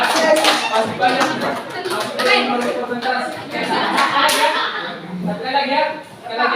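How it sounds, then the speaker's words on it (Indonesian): Group of people in a classroom clapping in bursts of sharp, fairly close claps, mixed with voices speaking and chanting over and between them. "Tepuk 5 kali sebanyak 5 kali."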